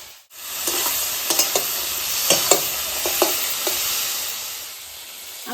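Fried eggplant pieces sizzle steadily in hot oil with salt and turmeric while preparing Kajoli fish with eggplant, a continuous close hiss broken by scattered sharp spatula scrapes and stirring clicks, with no voices.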